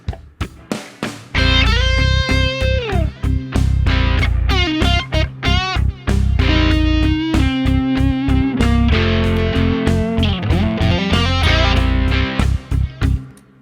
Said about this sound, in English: Now suddenly you have this reverb effect, but it didn't come from the reverb, it comes from the delay.